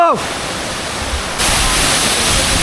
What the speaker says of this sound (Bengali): আমরা সোনাইছড়ি ট্রেলের সোনাইছড়ি ঝর্ণা একদম কাছে